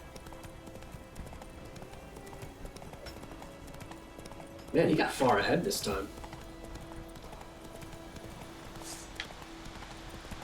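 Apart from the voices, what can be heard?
horse galloping in video game The Witcher 3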